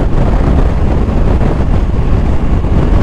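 Strong wind buffets the microphone outdoors, a loud, constant low rumble and roar with no pauses.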